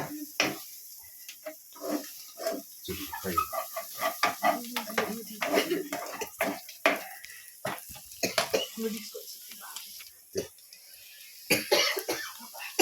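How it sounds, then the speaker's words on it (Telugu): Someone coughs repeatedly in a kitchen where chicken liver is frying, with bursts of harsh coughs and throat clearing over a soft sizzle and occasional pan noises. "ఇప్పుడు కొంచెం దగ్గు వచ్చేస్తుందండి"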